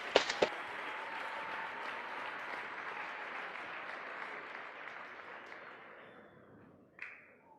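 An audience at a high school district wrestling tournament applauds a guest, opening with a few sharp claps that swell into sustained clapping, then gradually thinning and fading out, with a brief clack near the end.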